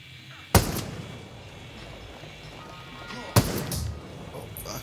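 Two sharp, heavy gunshot blasts, a few seconds apart, in the video game Ghost Recon Breakpoint during a raid, each with a booming rumble that lingers over a steady background din.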